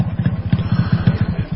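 A motorcycle engine close by gives a low, rhythmic thumping, with rapid even pulses like a steady idle over a brief stretch and no voices.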